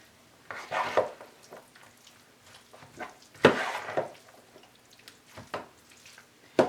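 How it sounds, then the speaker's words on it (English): A big spoon works through a pizza burger mixture in a bowl, giving soft wet squelching and scraping strokes in irregular bursts, close and moderately loud, with no talking. "I take a big spoon, because I need to mix this up, and start folding it in."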